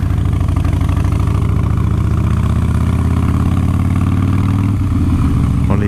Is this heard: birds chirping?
no